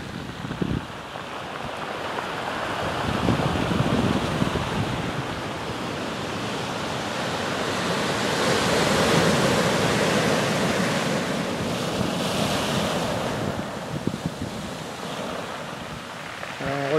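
Ocean waves break and wash onto the beach at Port Ouest, Réunion, at sunset, a continuous loud roar of surf swelling and receding, mixed with wind buffeting the microphone.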